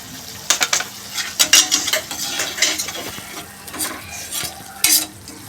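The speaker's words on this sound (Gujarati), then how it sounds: "અને હવે આપણે એને સાંથળીશું" Potatoes with salt, coriander-cumin, turmeric and garam masala being sautéed and stirred in a pan for dum aloo, with a scraping utensil, clinks and a soft sizzle close up.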